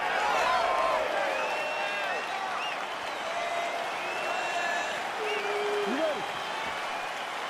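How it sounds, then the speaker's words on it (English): Video game crowd at a UFC 4 fight in EA Sports UFC 4 roars steadily with applause and cheers just as the bout begins, a continuous arena din with a commentator's voice talking over it. "crowd getting excited as this fight gets underway"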